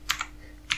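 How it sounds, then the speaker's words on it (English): Computer keyboard typing while entering an email address: a few quick soft key clicks close by, with a short pause before one more tap, no talk. "So here I am typing email address"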